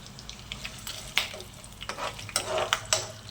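Mustard seeds, chana dal and cumin frying in hot oil for a lemon pulihora tempering, a soft sizzle broken by several sharp crackles and spatters, close and without talk.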